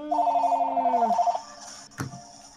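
A telephone rings with a rapid trilling electronic bell for just over a second, then stops, followed by a brief clunk as it is handled.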